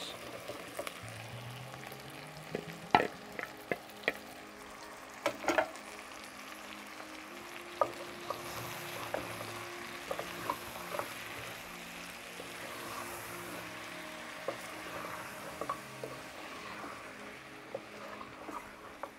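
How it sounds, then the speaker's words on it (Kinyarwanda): Tomatoes frying in a pan with meat give a low, steady sizzle, punctuated by scattered sharp clinks and taps of utensils, quiet and close throughout with a brief rising tone early on. "inyanya zacu rero tuzisukemo nazo tuzikarange zishe"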